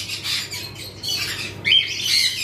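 Pair of lovebirds, a male and a female, giving harsh repeated squawks close by, three bursts in quick succession with the last loudest, no talking.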